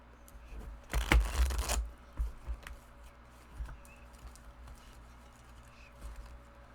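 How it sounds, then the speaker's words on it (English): A Kuromi tarot deck is shuffled close by, one quick riffling burst of cards lasting under a second, followed by faint handling taps and quiet room noise. "okay, that didn't shuffle very well."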